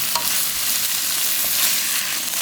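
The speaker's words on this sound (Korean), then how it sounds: "센 불로 달달 볶아주세요" Soaked bracken (gosari) stir-fried over high heat in a garlicky seasoning sauce gives a loud, steady sizzle with soft stirring scrapes, close up and with no voices.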